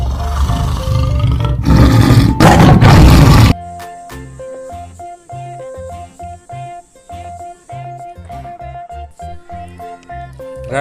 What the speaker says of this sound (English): Royal Bengal tiger.